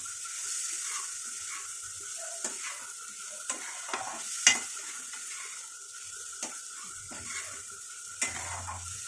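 Marinated paneer fries in ghee in a pan while being stirred, giving a steady low sizzle broken by occasional utensil scrapes and clinks, with no one talking.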